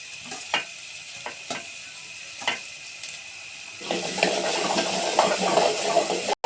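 Finely chopped carrots and green chillies go into a hot pan: a few scattered ticks and clinks, then a steady, close sizzle that swells and stays loud until the end, with no talking.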